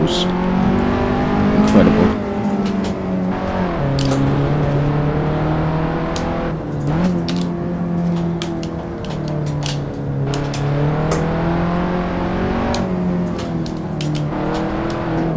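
A race car engine in the Assetto Corsa racing game roars continuously at high revs, its pitch rising and dipping as the throttle and brakes are worked through a run of corners, with gear changes breaking the steady drone.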